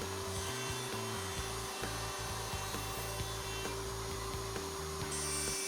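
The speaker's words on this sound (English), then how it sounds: "The socket board is routed by moving in and out of the template openings." A router cutting box joint sockets in a board with a Leigh B975 box joint jig on a router table, a steady whirring hum with repeated short cutting passes as the bit moves in and out of the template openings.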